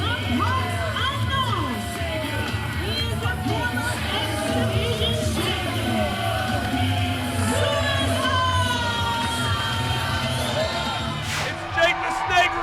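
Wrestling crowd in a packed venue on its feet cheering, a loud continuous roar of shouts, whoops and yells with overlapping voices throughout, swelling slightly near the end.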